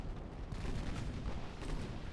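A torpedo detonation in the naval strategy game Ultimate Admiral Dreadnoughts, heard as a brief, deep rumbling blast that swells and holds for a couple of seconds with no voices over it.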